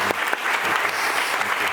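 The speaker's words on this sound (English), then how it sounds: "Maybe we can give them a round of applause." Audience at a panel discussion applauding, a steady, even patter of many hands at moderate distance lasting under two seconds.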